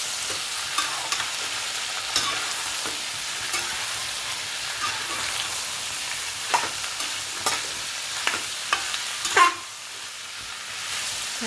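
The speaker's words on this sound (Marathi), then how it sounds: "ह्याच्या तेलात मिक्स करून घ्यायचं आहे." Vegetables for veg chilli frying in oil: a continuous soft sizzle and hiss, with occasional scrapes and taps as they are stirred in the pan, close by and with no voices.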